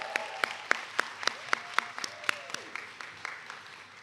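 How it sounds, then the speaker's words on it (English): Graduation ceremony audience giving a round of applause, quiet and sparse, with a few sharp, evenly spaced claps standing out over faint background clapping and a voice, fading toward the end. "Another round of applause."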